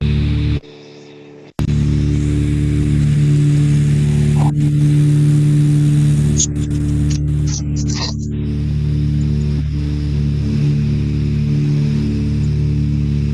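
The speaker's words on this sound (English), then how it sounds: "I'll put the sound down a bit because the engines are on." Light aircraft engines run steadily on departure from Connemara Airport, a loud continuous droning hum with a brief dropout near the start, alone without talk.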